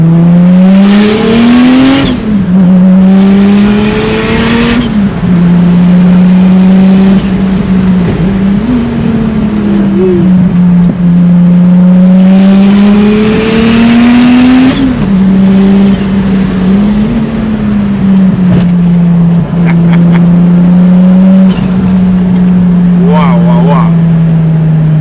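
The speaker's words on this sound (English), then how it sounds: "Guys, listen to this turbo." A loud turbocharged 1200 HP BMW E30 with a swapped S52 engine drones and surges in repeated waves of acceleration, close up and continuous throughout.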